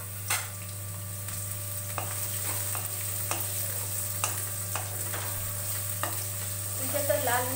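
Onions and chili sizzle in a pan for suji upma, a soft steady frying hiss with scattered clicks of a spoon stirring, close but fairly quiet.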